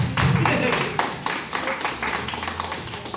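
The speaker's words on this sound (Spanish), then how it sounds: "Dale un aplauso al Señor." Church congregation clapping in praise to the Lord, loud, fairly close hand claps in an uneven rhythm, with voices mixed in beneath.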